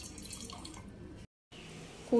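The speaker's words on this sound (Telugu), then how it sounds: "కూల్ వాటర్ పోసుకుందాం." Cool water from a clay pot is poured for homemade mango juice, a brief close splashing stream that cuts out for a moment and then resumes.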